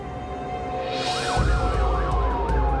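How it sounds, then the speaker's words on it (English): A police siren wails up and down over a low engine rumble in Brentwood, Los Angeles, at night, joined partway through by a second warbling siren. "Sirens pierce the air in the affluent neighborhood of Brentwood."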